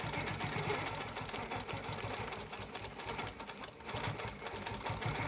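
Close and continuous, a sewing machine stitches a wholecloth quilt with a rapid, steady mechanical whir that keeps going without pause.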